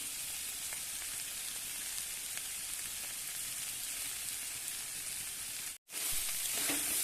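Banana stem and shrimp fry in a pan with a steady, dense sizzle that continues alone, breaking off briefly near the end before resuming just as loud.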